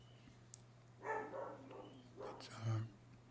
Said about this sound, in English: That's our puppy, German Shepherd, lives next door temporarily.